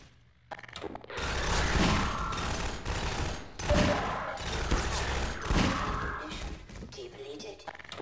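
Rapid bursts of gunfire in the video game Half-Life 2, set in a prison fight at Nova Prospekt, loud repeated shots with heavy thuds in several volleys, with voices talking over parts of the action.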